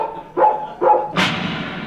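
Two short dog barks ring out close and loud about half a second apart, followed by a burst of bright broadband noise, with no talking.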